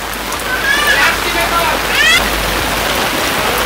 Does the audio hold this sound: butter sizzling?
no